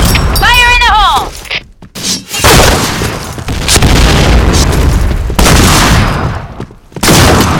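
A grenade goes off in the PointBlank shooter game, a loud booming blast among heavy gunfire and crashes, with game voice lines and talk over the top.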